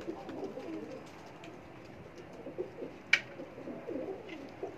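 A partially paralysed pigeon at a loft coos softly and repeatedly, faint and low against a quiet background, with one brief sharp click partway through.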